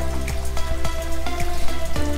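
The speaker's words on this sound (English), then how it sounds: "the rain has picked up, but I'm keeping this fire going even in the rain." Rain pattering down at a campsite around a burning campfire, quick drops ticking in an irregular rhythm close by over a steady wet hiss.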